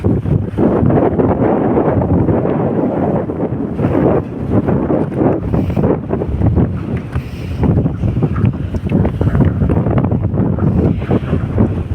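Strong wind buffets the microphone continuously, a loud roaring rumble with gusts, over the wash of water and waves.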